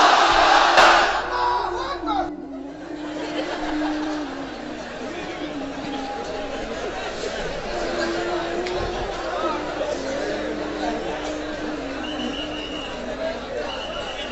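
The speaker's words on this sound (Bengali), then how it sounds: "এবার সবাই মিলে তিনটা তাকবীর পড়েন একসাথে আওয়াজ করে" A large crowd at an Islamic religious gathering shouts takbir together, a loud, roaring collective cry that comes in surges. A speaker's voice can be heard in the mix.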